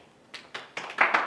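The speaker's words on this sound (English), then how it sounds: "you clap" Audience members clap their hands in a steady tempo, five sharp claps growing slightly louder and more even, close and clear with no talk over them.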